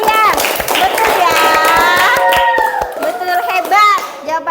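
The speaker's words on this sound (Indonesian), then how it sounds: "Tepuk tangan untuk Abang Dian" Children in a classroom clap together for a classmate who answered a question, a dense patter of small hands close by with a voice speaking over it.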